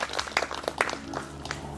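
Scattered, fairly faint hand clapping from a crowd at a graduation celebration, irregular bursts over about two seconds.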